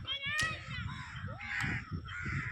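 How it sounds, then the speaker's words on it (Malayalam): Crows caw near a river, a few harsh, ragged calls close by and over a steady low rumble of outdoor background noise. "കാക്കകളും മറ്റും ബഹളം വെക്കുന്നുണ്ട്."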